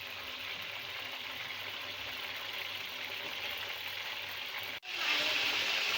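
Kebabs frying in hot ghee in a karahi make a steady, broadband sizzle that runs unbroken at close range, with a brief dropout near the end before the crackle returns slightly louder.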